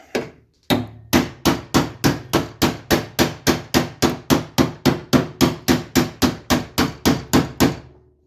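A hammer taps a rusty patch panel into place on a Ford dentside truck door: about two dozen sharp metallic blows in an even, quick rhythm, close and loud with no talking.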